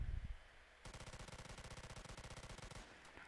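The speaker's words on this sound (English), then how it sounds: "I'm just shooting randomly." Rapid automatic gunfire in the video game Polyguns, a fast regular burst of shots lasting about two seconds after a brief lead-in noise, loud and close with no talking.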